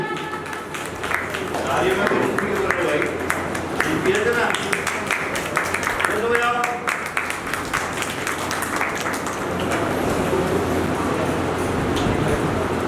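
An audience at a cultural program in Dilshad Garden, Delhi, claps in steady, sustained applause, with voices mixed in under the continuous patter.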